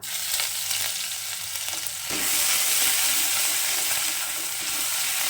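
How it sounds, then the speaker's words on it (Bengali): Grated ginger drops into hot oil for a vegetable dal, and after a quieter start a loud, steady sizzle fills the pan up close, with faint stirring. "আদাটাকে একটু ভালো করে ভেজে নেবো"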